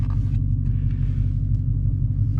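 Steady low engine and road rumble from inside a car driving back to Cambridge, captured on a GoPro, continuous and close with no talking.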